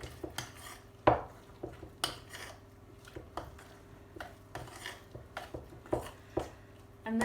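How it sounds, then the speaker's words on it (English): Rock cake batter with currants and carrot being mixed in a bowl, a run of irregular clinks and scrapes of a utensil against the bowl, close and moderately loud, no talking. "And then give that a good old mix up."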